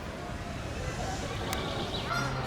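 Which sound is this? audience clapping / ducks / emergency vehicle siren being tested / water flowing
ducks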